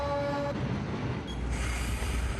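A commuter train runs on the outskirts of Moscow with a steady rolling rumble and wheel noise. A brief tonal squeal or horn-like note fades early, and there is no talk.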